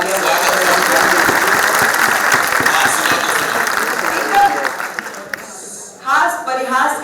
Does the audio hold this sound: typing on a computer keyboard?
no